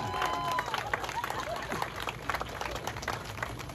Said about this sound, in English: give a bride a round of applause,